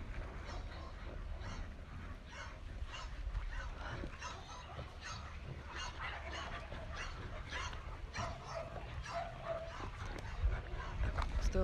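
Dogs bark in short, repeated bursts close by, with whimpering mixed into a steady, noisy background. Two dogs are present, and the barking keeps going throughout.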